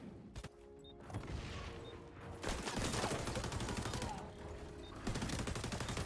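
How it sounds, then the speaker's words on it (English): A napalm strike in the shooter XDefiant erupts into a dense, roaring wash of fire and explosions, with crackling bursts and gunfire-like rattles building and holding loud over several seconds. "That napalm you requested."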